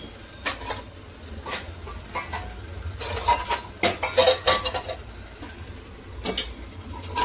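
Dishes and steel utensils clattering and clinking as breakfast plates are set out in a home kitchen, irregular sharp clanks that grow busier midway, with faint background noise and no talk.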